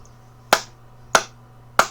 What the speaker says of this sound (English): One set of claps.